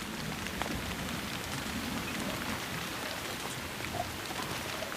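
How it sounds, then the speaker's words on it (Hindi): Heavy monsoon rain pours steadily and densely, a loud continuous hiss of drops on surfaces with no pause and no voices. "3 महीने तक बारिश लगातार होती रहती है।"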